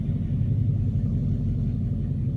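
Deep, throaty exhaust rumble from a 2006 Dodge Charger R/T with a Cherry Bomb muffler idling nearby, a steady loud low drone with no talking over it.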